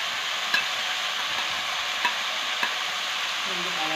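Coconut, green chili and garlic stir-frying with beans for a Kerala payar thoran, a steady close sizzle with a few sharp clicks of a spoon against the pan and no talking.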